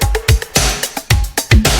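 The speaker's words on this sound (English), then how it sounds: "And all together, the drums sound like this." A punchy electronic drum loop with booming kicks and sharp snare hits repeating in a steady, busy groove, loud and up front.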